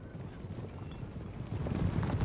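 Massed cavalry hooves clatter in a Napoleonic Total War 3 battle, a dense rolling clip-clop that swells louder toward the end, with no voices over it.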